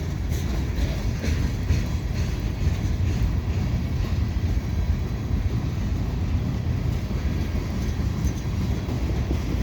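A CN freight train rolls past on rails beside the Lachine Canal bridge approach in winter, a loud, steady rumble of wheels and cars throughout.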